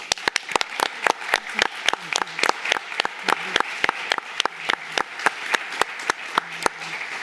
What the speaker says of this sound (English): let's give another round of applause for our debaters